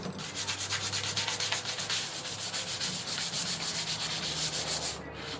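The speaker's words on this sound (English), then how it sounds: "I'm going to sand a little bit right there." Steady, close hand sanding on furniture being prepared for chalk paint, a continuous rhythmic scratchy rasp of sandpaper with quick back-and-forth strokes and no talking.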